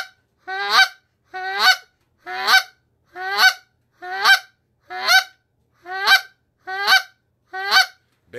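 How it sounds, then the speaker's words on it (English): A hand-blown goose call gives clear honks that break into a buzzy cluck, about nine evenly spaced calls in a steady rhythm, close and loud with nothing else heard. "Basically, it's a clear honk or clear cluck with no voice to it."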